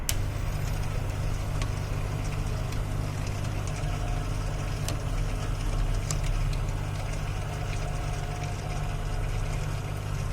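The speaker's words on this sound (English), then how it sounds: "Now this transmission is in second gear." A sliding mesh transmission running in second gear makes a steady low mechanical drone with an even hum and faint ticks, constant and moderately close throughout.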